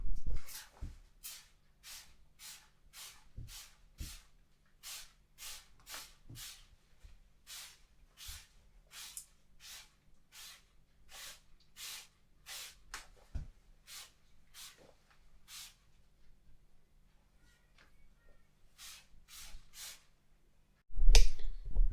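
Rapid short bursts of spray hiss repeat in quick succession from a nearby aerosol can sprayed onto a laminated Gore-Tex motorcycle jacket, then a louder rustle at the end.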